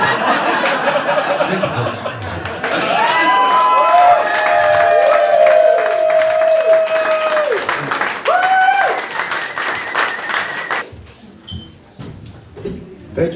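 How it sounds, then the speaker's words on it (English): A comedy club crowd in a craft brew venue applauds, chuckles and laughs after a joke, with cheering and scattered whoops. The noise stays loud for several seconds, then thins out before a voice returns. "allowing the applause to die down before I could reach the microphone"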